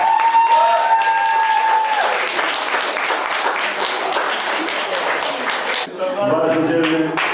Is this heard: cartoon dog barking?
no